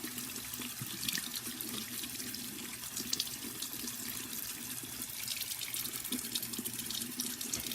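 Tap water runs over a soapy makeup brush in a sink, a soft, continuous splash and trickle with small irregular drips, close and faint.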